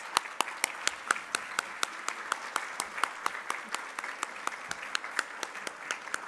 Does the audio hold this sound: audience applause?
yes